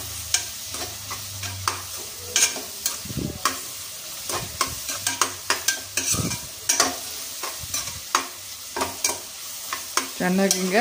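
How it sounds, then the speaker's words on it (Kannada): A spatula scrapes and clacks rhythmically in a pan, stir-frying paneer fried rice with onion flowers, carrot and cabbage over a low sizzle, close and loud, with a few soft spoken words. "ಫ್ರೈ ಮಾಡ್ತಾಯಿದ್ದೀನಿ. ಒಂದು 5 ನಿಮಿಷ ಇದಾಗಲಿ ಫ್ರೈ."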